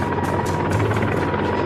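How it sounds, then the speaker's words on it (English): A Soviet Mi-26 heavy transport helicopter flies close by: a loud, steady, broadband roar with a rapid rotor thump pulsing through it and no talk. "This helicopter performed well at transporting very heavy cargoes with the help of external"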